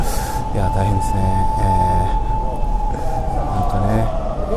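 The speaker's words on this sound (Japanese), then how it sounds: "あ救急車じゃないのか、事故追いかけてんのか警察が。" A wailing police car siren on a Tokyo street near Shiba Park, loud and steady throughout with traffic rumble, while someone talks over it.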